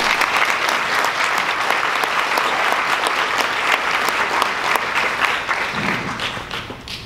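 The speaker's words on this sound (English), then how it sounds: "Let's have one more round of applause for all these awardees." Sustained, dense clapping from a dinner audience at a law enforcement appreciation event, applauding the awardees in a steady roar that tapers slightly toward the end.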